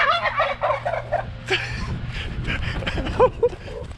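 Wild turkeys gobble loudly and close by in rapid rattling bursts, with further gobbles and calls mixed among outdoor rustling and a brief voice.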